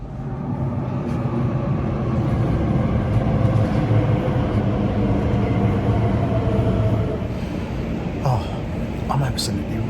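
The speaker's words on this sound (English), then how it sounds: "I'm on the Elizabeth line now" Steady rumble and rolling hum from inside an Elizabeth line train in motion, continuous and fairly loud throughout, with a few brief higher squeals near the end.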